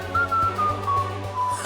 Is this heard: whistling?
yes